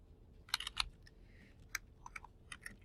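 Computer keyboard typing while correcting a spelling error in Word: short bursts of crisp key clicks with brief pauses, close and fairly quiet.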